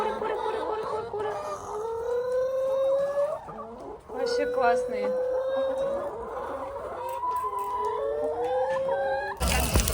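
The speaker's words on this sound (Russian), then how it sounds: "Напротив туалета были курочки. И они так классно кудахчат." Hens cluck and chatter continuously at close range near a toilet block during an Easter outing in Germany, with a brief spoken remark partway through.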